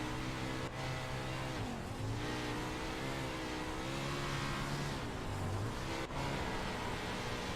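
410 sprint cars racing in the iRacing game, engines wailing steadily with pitch dipping and rising as they lap through corners, a continuous loud engine drone with no voices.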